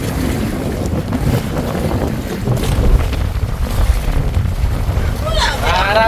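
Big sea waves churn around a boat while strong wind buffets the microphone. The roaring surge is loud and continuous, rising and falling with the swell, and people's voices come through faintly near the end.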